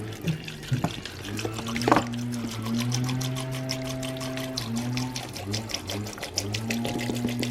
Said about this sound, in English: after you have peeled your tamarindos, you're gonna go ahead and use some water